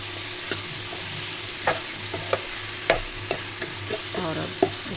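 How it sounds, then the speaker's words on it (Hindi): Cut pumpkin for a sweet-and-sour sabzi stirred into a hot pan: continuous frying sizzle with scattered scraping and clattering strokes of a spoon, near and clear, no voices. "कद्दू को डाल देते हैं। और इसको भी अच्छे से मिक्स कर देते हैं इसी में।"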